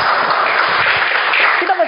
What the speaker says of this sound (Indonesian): Beri tepuk tangan untuk Pak Narto